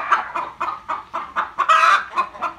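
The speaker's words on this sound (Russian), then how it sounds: "Посмотрите, где у нас куры несут яйца." Several chickens cluck nearby at an old shed used for nesting, a steady, pulsing series of short calls, one rising briefly into a louder squawk.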